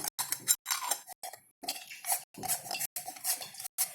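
A metal chakli press is handled up close as a star-shaped plate is fitted in and the press is closed, giving a run of short metallic clinks and scrapes separated by brief silences.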